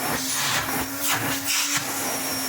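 A restored 1980s Hoover Constellation 867a vacuum cleaner runs steadily with a broad, airy whine and a low motor hum, loud and close, with no talking.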